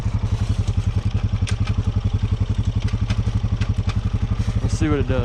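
Can-Am 650 ATV engine idling in a steady, rapid close-up putter, then revving upward in second gear at the end for a wheelie, with someone talking briefly over it.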